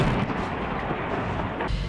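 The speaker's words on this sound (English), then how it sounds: "Explosions at the home of one of the prime suspects in the kidnapping and murder of 3 Israeli teens." Dense, continuous rumbling blast noise from explosions during an Israeli army raid on a home in Hebron, heavy and sustained for about two seconds, with no talk.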